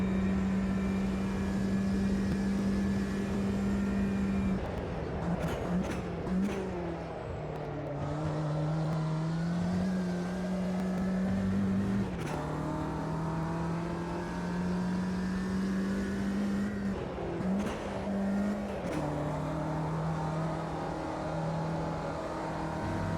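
A Ginetta G40 race car engine drones loud and steady on the Nürburgring Sprint circuit in Automobilista 2, the pitch holding high then dipping and climbing again through several gear changes and lift-offs across the lap.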